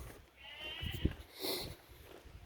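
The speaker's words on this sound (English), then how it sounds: "We got a sheep," A sheep bleats outdoors on a farm, one drawn-out nasal call followed by a short thump and a second, fuller bleat a moment later.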